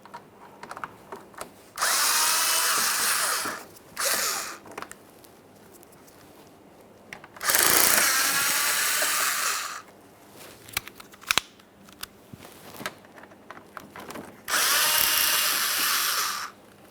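A power drill backs out three Phillips head screws holding a fender liner to the bumper cover of a 2009-2014 Nissan Maxima. It makes three loud, close whirring bursts of about two seconds each, separated by quieter handling noises.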